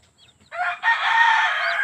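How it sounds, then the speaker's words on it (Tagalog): A hen among her fifteen newly hatched chicks gives a loud, drawn-out call close by, preceded by a few faint, soft peeps. "Oh, yung mga bagong pisa natin mga idol."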